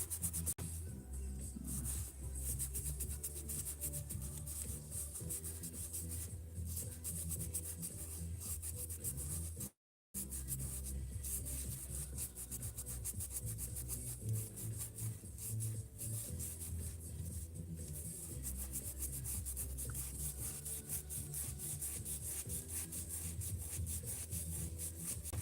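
A Porsche instrument cluster scrubbed with a Scotch-Brite pad, giving a steady, quiet, continuous rubbing and scraping broken by one brief pause.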